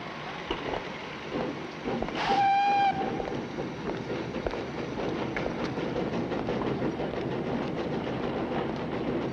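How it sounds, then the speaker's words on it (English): A train at a station platform rumbles and clatters continuously, with a short whistle blast near the start rising above the steady rolling noise. "Which is a train for Yorkshire?"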